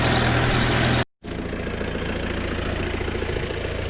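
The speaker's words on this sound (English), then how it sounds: "so we're just using a little old tractor" A little old farm tractor engine idles and runs with a steady mechanical chug, loud and close, briefly cutting out for a moment before resuming its even rumble.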